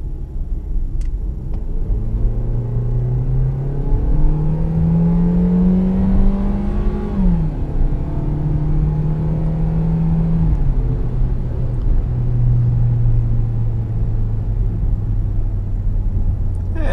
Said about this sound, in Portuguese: Tirar aqui do modo Sport, ele já volta a trocar as marchas, ó.